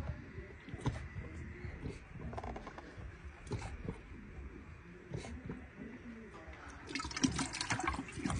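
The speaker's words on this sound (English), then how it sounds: "she's almost drank the whole bucket already" An animal drinks water from a bucket with faint, irregular slurping and splashing, growing louder toward the end.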